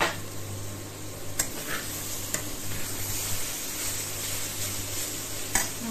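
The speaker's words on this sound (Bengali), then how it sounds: "এবারে বেগুনটা সামান্য একটু ভাজা ভাজা হলে তারপর মাছের তেলটা দিয়ে দেবো" Eggplant pieces fry in oil in an uncovered pan, giving a steady, close sizzle with a few sharp clicks and pops scattered through it.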